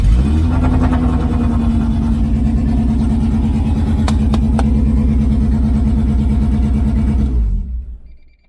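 A Honda CRX engine with a VTEC head fires up for its first start and runs rough, revving steadily at close range for about seven seconds before cutting off, with a couple of faint clicks partway through.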